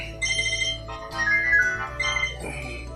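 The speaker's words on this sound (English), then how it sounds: "phone is ringing." A mobile phone rings nearby with a melodic ringtone that repeats in short phrases over about three seconds, clear and moderately loud.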